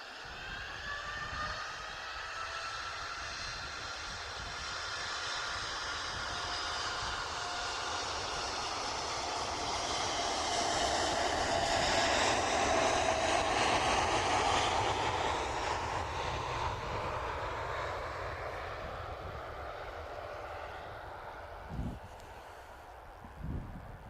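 A Qatar Airways jet airliner passes at Manchester Airport at dawn, its engine roar swelling from a distant whine to a loud broad rush and then fading over some twenty seconds, with no talk.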